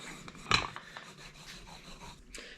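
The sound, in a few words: rolling out pie crust dough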